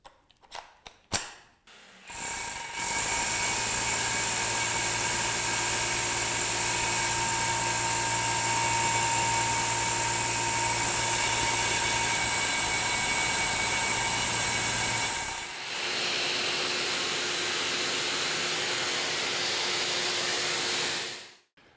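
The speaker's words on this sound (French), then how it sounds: "Allez, c'est parti, on passe au perçage." A power drill bores a hole for chemical anchoring, running as a steady, loud, high-pitched whine for about twelve seconds, then briefly dipping before whirring on again until it stops.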